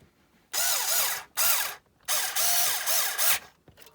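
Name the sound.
screw gun driving a screw into an RC truck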